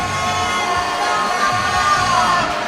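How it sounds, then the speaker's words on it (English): Crowd cheering and roaring in a steady, loud wash at the lead final of the 2012 IFSC Climbing World Cup in Inzai, sustained throughout with scattered shouts mixed in. "Crowd go wild."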